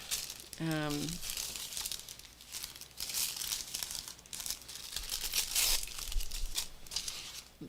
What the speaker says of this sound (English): then we'll flip the page